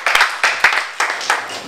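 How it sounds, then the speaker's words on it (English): A church congregation at a birthday service claps in praise, a short run of about six quick, fairly loud bursts of hand clapping with no talk. "Clap your hands and give God praise for her"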